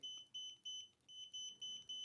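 Rapid high-pitched electronic beeps from a camera flash trigger in repeated bursts, steady and fairly quiet, with a brief pause midway and no talking.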